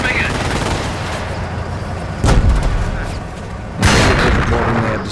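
A PIAT spigot mortar fires in the Company of Heroes video game, a set of loud booming blasts amid steady battlefield rumble, with a second heavy report a moment later.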